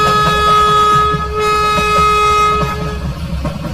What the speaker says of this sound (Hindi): थोड़ी देर बाद ये ट्रेन अगला स्टेशन पे आ जाता है